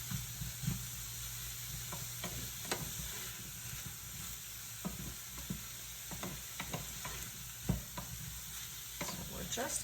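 Celery sizzles and fries in a pan while being stirred, a soft continuous hiss broken by scattered scraping and clicking stir sounds, close but quiet.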